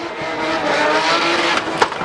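A drift car at the Red Bull Car Park Drift event in Katowice revs hard after a clutch kick, a loud, close engine roar with squealing tires and a sharp burst near the end.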